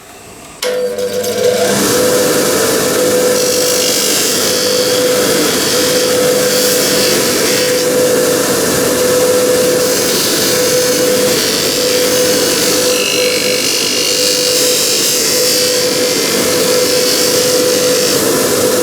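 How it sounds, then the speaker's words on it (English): Scotch-Brite wheel buffing file marks off a cast brass machinist hammer: after a brief start, a steady, loud abrasive whir with a sustained motor tone runs continuously, rising and falling slightly as the workpiece is pressed. "I'm going to use a Scotch-Brite wheel to try and buff out the worst of the file marks"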